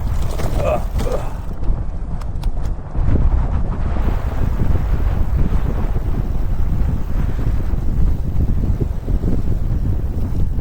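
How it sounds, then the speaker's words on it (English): Headwind buffets the microphone in low, rumbling gusts that stay loud and fairly steady throughout, with a few brief clicks early on and no talk. "oh, we're gonna have some headwind."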